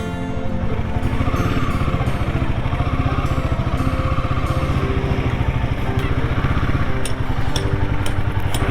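Motorcycle ridden on a sunny, cool day out of Upper Shillong toward Mawsynram, its engine a steady, loud drone with road and wind rush that runs unbroken throughout.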